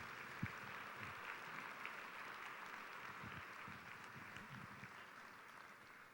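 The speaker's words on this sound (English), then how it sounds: "Please join me in a round of applause for all of our students that won and distinguished their schools yesterday" A banquet audience applauds winning students, the clapping dense but faint and distant across the whole stretch, with a few louder individual claps standing out.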